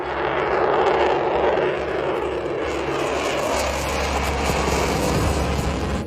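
An F-22 Raptor fighter jet flying at an air show gives a loud, steady, broadband engine roar that fills the whole stretch with a deep rumble.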